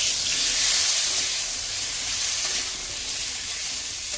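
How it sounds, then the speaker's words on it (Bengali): Potatoes fry in a little oil, giving a steady, hissing sizzle that stays close and even throughout, with no voices. "আলুটা ভাজা হতে থাক"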